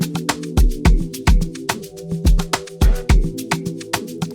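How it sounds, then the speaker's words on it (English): An electronic music mix loops a distorted vocal chop over punchy, booming kick drum hits in a steady, driving rhythm, loud and close, with no talking. "And I added this little like vocal chop, distorted, and then I'll put in the kick."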